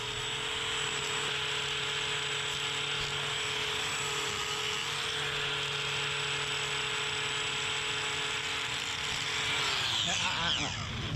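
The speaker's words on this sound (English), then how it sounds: "you can hear the shards of hoof horn splintering off as I'm using the grinder" An electric grinder trims a calf's overgrown, exceptionally hard hooves, shaving off splintering hoof horn; a loud, steady high-pitched whine with grinding grit runs nearly unbroken before dipping in pitch near the end.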